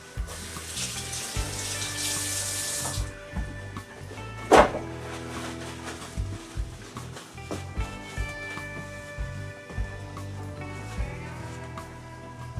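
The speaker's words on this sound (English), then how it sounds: "Wash and dry my hand real quick." Running water from a kitchen tap splashes briefly as hands are rinsed mid-recipe for scalloped potatoes, then gives way to quieter clinks and handling sounds in the kitchen.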